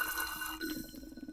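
Distilled water poured from a bottle into a container, a quiet trickling stream that grows less even and more gurgling halfway through, heard alone at close range.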